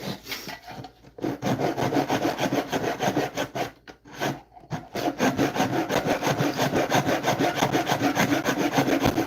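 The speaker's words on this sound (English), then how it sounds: "Cutting purple heart splines off cedar boxes." Hand saw cutting purpleheart wood splines off cedar boxes, steady rasping back-and-forth strokes up close with a couple of short pauses, then quicker, even strokes continuing alone.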